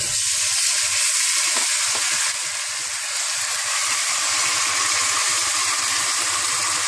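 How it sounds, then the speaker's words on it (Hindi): Constant bright sizzle of ginger garlic paste frying in a hot pan with browned onions, a dense hiss running evenly from start to finish with no voices. "अब इसमें अदरक लहसुन पिसा हुआ डाल देंगे।"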